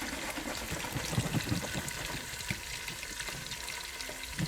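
Rice and beans sizzle and crackle in a pan with coconut milk added, close up, with light stirring and clinking over the steady frying noise.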